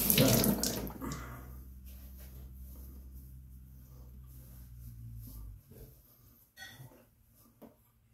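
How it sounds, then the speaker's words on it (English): A bathroom sink tap runs in a steady close stream while someone rinses their face, with splashing and water noise that stops after several seconds, followed by a few faint handling sounds. "Gotta rinse my face off."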